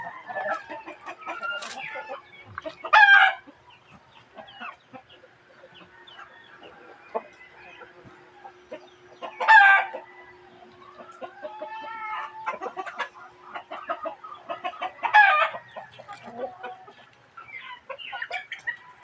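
Chickens clucking steadily nearby, with a rooster crowing loudly about three times at regular intervals over the flock's chatter in a backyard setting.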